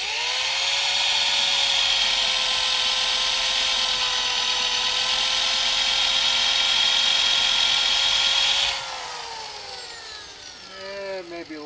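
A power drill spins an 11/16 spade bit into wood while carving a hobbit pipe: a loud, steady, close whine for about nine seconds, then it winds down and stops, followed by a few faint knocks.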